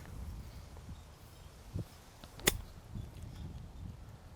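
A golf club strikes the ball once on a short game chip during a match, a single sharp click standing out over quiet outdoor ambience.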